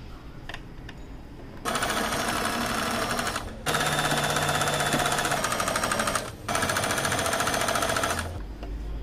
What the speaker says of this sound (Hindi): तो मशीन पर लगाते हैं सिलाई।